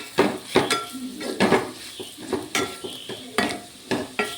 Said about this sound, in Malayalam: ചിക്കൻ മസാല കുരുമുളക് പൊടി മഞ്ഞൾപ്പൊടി മുളക് പൊടി ഇതും കൂടി നന്നായിട്ടൊന്ന് ഇളക്കി കൊടുക്കാം